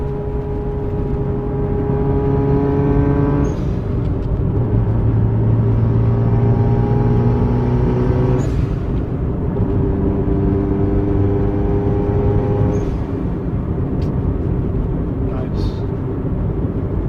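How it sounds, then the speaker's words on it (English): A Subaru Impreza STI Spec C RA-R's boxer engine drones loudly from inside the cabin while driving. Its tone climbs repeatedly and drops back at each gear change, with brief valve hiss around the shifts. "I really like the sound, the boxer rumble with the ball valve and everything."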